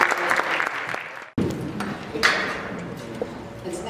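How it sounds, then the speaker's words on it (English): Audience applause at a Sikh Heritage Month and Vaisakhi awards event, a dense wash of clapping that cuts out briefly near the start and then resumes, steady and fairly close, with some voices mixed in. "Let's give them another round of applause"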